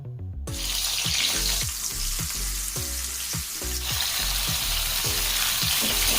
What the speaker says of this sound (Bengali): তেলটা ভালোভাবে গরম হয়ে গেছে এখন এতে আমি করলাগুলো ভেজে নিচ্ছি